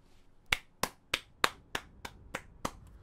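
A single person claps eight times at a steady, moderately quick pace. Each clap is sharp and close, with near silence between them.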